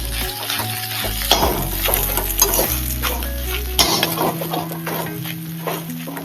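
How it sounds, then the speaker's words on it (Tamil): Loud, close sizzle of ground mutton frying, with frequent scraping and clattering as a spoon stirs it around the pan. "இந்த அரைச்சி வச்ச மட்டனை போட்டு நல்லா ஃப்ரை பண்ணி எடுத்துக்கணும்"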